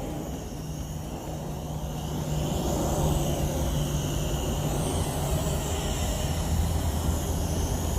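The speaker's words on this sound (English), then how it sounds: "now we're gonna start with the auto takeoff" A Uranhub GPS camera drone rises after auto takeoff, its steady motor and propeller whine droning continuously outdoors and growing a bit louder partway through, with no talking.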